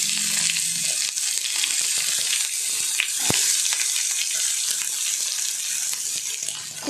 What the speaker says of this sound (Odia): ପିଆଜ ବ୍ରାଉନ୍ ହେଲା ପର୍ଯ୍ୟନ୍ତ ଆମେ କୁକ୍ କରିବା।